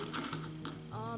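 A single small token dropped during a tarot reading, giving a quick metallic clink and a brief ringing rattle as it settles, close and quiet.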